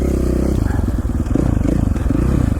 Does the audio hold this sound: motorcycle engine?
yes